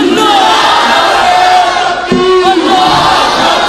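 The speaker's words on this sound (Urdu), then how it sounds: "ذرا کھڑے ہو کے صحابہ دی عظمت دے نعرے لاؤ" A crowd at a religious gathering chants slogans in response to a Nara-e-Takbeer call, loud massed voices shouting together in a sustained, reverberant roar with a brief dip midway.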